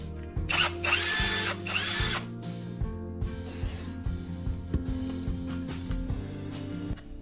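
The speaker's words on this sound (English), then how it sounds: "The blade is guided carefully against the spinning abrasive discs." A power drill whirs steadily while a knife blade grinds against spinning abrasive discs, with rhythmic pulses and brief harsh scraping bursts near the start.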